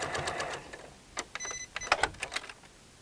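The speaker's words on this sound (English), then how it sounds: "We now have all of our layers sewn together." A sewing machine stitches through layered pillowcase fabric in short, uneven bursts, close and fairly quiet, with a brief whir early and then a series of clicking needle strokes.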